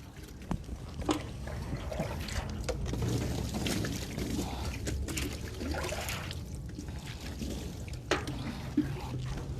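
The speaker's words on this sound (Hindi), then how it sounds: "इसी तरह से इसका पानी डालेंगे इसके ऊपर" Water poured over a body during ritual washing of the deceased, continuous splashing and trickling with intermittent louder splashes, close by and uneven in rhythm.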